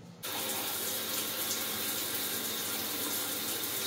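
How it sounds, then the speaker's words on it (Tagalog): Shower water bursts on abruptly and keeps running in a steady, loud hiss and splash that fills the whole stretch, fed by a Jieyuan mini automatic water booster pump. "I-try natin ngayon ang shower"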